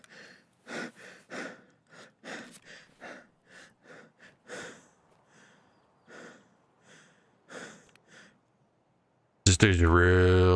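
A character in Escape From Tarkov breathing heavily, with a steady series of close, rhythmic huffs and gasps that fade to quieter breaths, followed by an abrupt loud burst of other game sound at the end.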